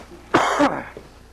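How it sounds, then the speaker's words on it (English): A man gives a single harsh cough, a short loud burst with a rough, softer tail, heard close over faint background hiss. "now I know why you're coughing over there"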